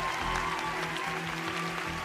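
Audience applause in a television talent show theatre, a broad steady wash of clapping that carries on evenly throughout, somewhat distant, with faint voices mixed in.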